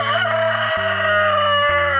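Chickens and a rooster call inside a morning coop, with a close, loud crow over steady clucking and fowl noise, without talk.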